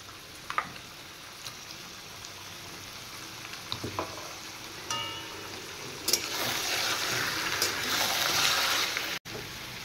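Chicken frying in a pan with ginger-garlic paste and green chillies: scattered clinks and stirring scrapes at first, then a loud, close sizzle swells and holds steadily until a sudden break near the end.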